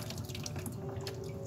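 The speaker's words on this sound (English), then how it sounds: "it's got a spigot that I put on there so that you can open it up, get your water that you catch coming in from your gutter" Water running from a spigot on a rain barrel that collects gutter runoff, a steady close splashing flow with no talk.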